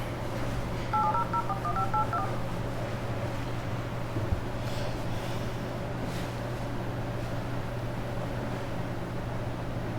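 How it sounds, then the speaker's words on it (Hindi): Phone dialing tones while placing a call, a short burst of DTMF-style beeps near the start over a constant low hum and background noise, then only the hum continues. "डायलिंग कॉलिंग ही आ रही है अभी।"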